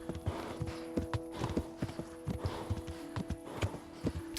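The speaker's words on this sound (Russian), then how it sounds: "Ой, лошадочка моя устала." A horse walks steadily in Kingdom Come Deliverance, its hooves clip-clopping in an even rhythm of about two strikes per second, close and fairly quiet, over a soft ambient drone.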